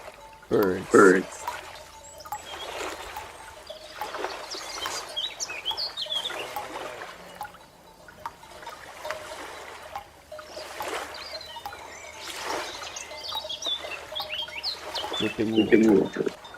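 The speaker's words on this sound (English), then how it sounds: "Birds." Birds chirp and tweet on and off over a steady soft wash of background sound, with sharper calls at the start and end.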